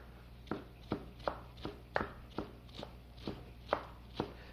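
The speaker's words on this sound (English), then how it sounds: "And then just take any knife and chop this up." A kitchen knife chops tender herb stems on a board in a steady series of about ten crisp, evenly spaced cuts, close and fairly quiet.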